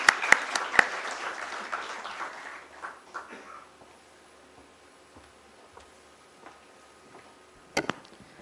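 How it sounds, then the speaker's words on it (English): Scattered clapping at a company stock-listing ceremony, a few sharp claps up front swelling into brief applause that fades out within about three seconds, followed by near quiet with faint ticks and one last clap burst. "Let's have a huge round of applause for ma'am, please."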